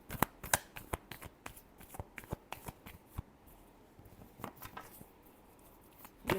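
Tarot cards shuffled by hand, a close, crisp run of riffling snaps and flutters in quick irregular bursts, no talk over them.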